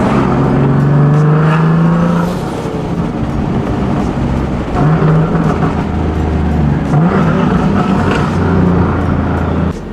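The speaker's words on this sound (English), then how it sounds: "when I gas it, that whole sound just like bounces off the ground, and I'm not gonna lie, it is pretty loud" Car with a turbocharged VQ engine and open wastegates accelerating loudly, a close, dense roar that surges and dips as the throttle is worked, with no talking.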